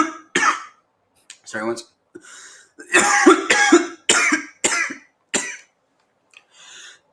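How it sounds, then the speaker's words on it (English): Several sharp coughs and throat-clearing bursts from someone who is sick, close and loud, clustered between stretches of conversational speech. "It's a good cough."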